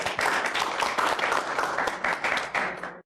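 An audience bursts into applause for a brave eight-year-old boy on a television show, dense rapid clapping from many hands that runs loud and even, then cuts off abruptly at the end.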